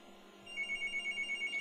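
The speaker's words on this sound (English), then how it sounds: "I'm sorry for the phone ringing." A telephone rings at moderate distance in a quiet room, its electronic ring pulsing in a steady, fast repeating pattern after a brief quieter lead-in, with no talking.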